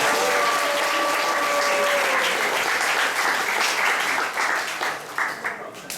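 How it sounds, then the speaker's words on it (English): Temple audience at ISKCON Atlanta breaks into steady, dense applause that holds for most of the stretch, then thins into scattered claps toward the end, with faint voices mixed in. "Let's give a round of applause for Iskcon Atlanta."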